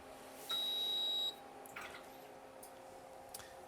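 A single high electronic beep from a darkroom timer sounds briefly, followed by faint clicks and small handling noises in a quiet darkroom.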